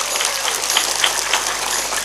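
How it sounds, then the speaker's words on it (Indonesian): Audience applause at an Indonesian religious lecture, a dense steady patter of many hands clapping continuously at moderate loudness with no talking. "ya tepuk tangan disit enggak masalah."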